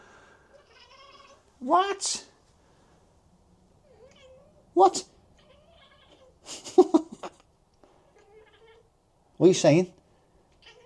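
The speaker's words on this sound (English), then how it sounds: "Another lovely Scottish Fold mix cat." A Scottish Fold mix cat meows several times, short close calls spaced apart, with a person talking quietly between them.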